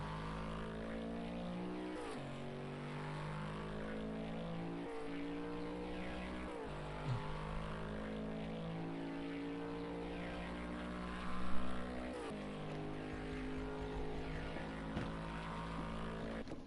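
Onboard a GT4 race car at the Nürburgring as it crosses the finish line, its engine droning steadily with rising and falling pitch sweeps through gear changes, loud and continuous with no talk.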